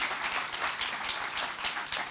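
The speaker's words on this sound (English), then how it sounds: "Small applause, that gives good energy." Modest audience applause at an energy futures talk, with a steady patter of many hands clapping, somewhat distant and even-paced throughout.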